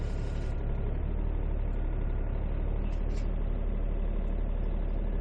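A 3-ton mini excavator's diesel engine idles with a steady low rumble throughout, close and constant, with no talking.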